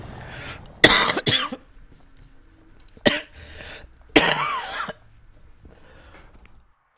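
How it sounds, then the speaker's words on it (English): A person with a lingering cough of about a week and a half coughs in several harsh bursts, a double cough, a single one and a longer rasping fit, close up with quiet pauses between. "It's lasted about a week and a half, this stupid cough."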